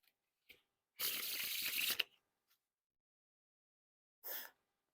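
A quick ruffling burr of cards being fanned, about one second long, then near silence and a second shorter riffle near the end.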